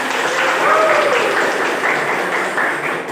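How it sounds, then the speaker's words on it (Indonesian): Students in a classroom clap loudly and close together at a teacher's request, a dense burst of applause with a few faint voices or squeaks mixed in, fading slightly at the end. "Oke, beri tepuk tangan."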